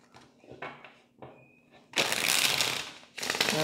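Tarot cards are shuffled by hand at close range, with soft riffles and taps followed by two louder bursts of rapid, crisp card flutter, one lasting about a second and the other shorter.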